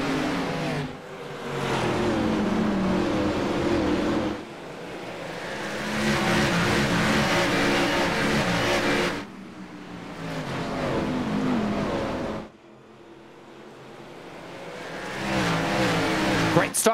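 Race cars in iRacing's PRL Grand National Series pulling away on the green flag at Martinsville, engines roaring and revving in long loud surges that drop briefly between gear changes, under a commentator's voice.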